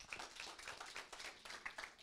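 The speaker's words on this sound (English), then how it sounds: "Let's give him a round of applause." Audience applause for a presenter at a startup pitch livestream event in Toronto, heard as a faint, fairly brief burst of scattered hand clapping from a crowd, with no talk over it.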